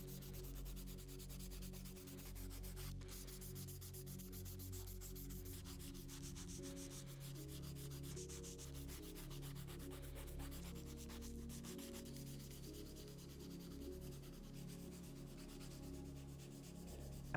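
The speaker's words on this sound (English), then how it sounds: "and then I'm going to file them into shape" Steady, continuous rasping of a file shaping toenails, close and quiet, running without a break under a low background hum.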